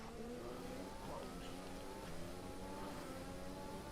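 Formula 1 race car engine in a racing video game at the Bahrain Grand Prix, accelerating with a steady high whine and rising, sweeping pitch, heard faintly and continuously for a few seconds.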